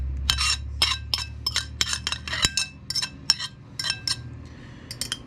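A utensil clinks steadily against a bowl as coconut cream is stirred, giving a quick rhythmic run of close, bright scraping taps over a low steady hum.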